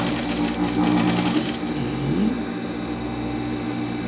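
Sewing machine running steadily as it stitches a curved dress seam, a close, even motor whir that slows and eases near the end.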